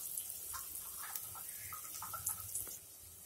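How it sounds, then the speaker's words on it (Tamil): Tamarind squeezed and dissolved by hand in water for puli pongal: faint, soft sloshing and squelching splashes in small irregular bursts, with no one talking. "இந்த புளியை கரைச்சி"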